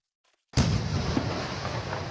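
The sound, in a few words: firework explosion in Garry's Mod video game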